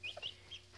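A hen gives a few soft, quick clucks, faint and close, in a quiet setting.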